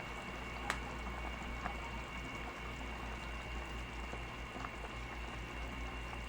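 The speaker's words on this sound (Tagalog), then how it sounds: "Kumukulo na." A pot of chicken tinola soup with chayote bubbles at a steady low boil, a soft continuous simmering hiss with occasional faint clicks.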